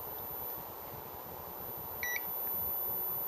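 A UNI-T 210E multimeter on its audible diode setting gives a single short electronic beep midway through, faint against a steady background hum.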